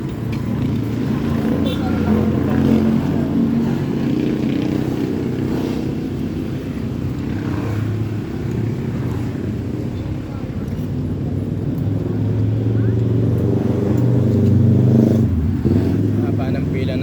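Heavy traffic along C6 near Lakeshore Bicutan, Taguig, with a long queue of cars idling and creeping forward, giving a steady low engine rumble throughout while someone talks over it.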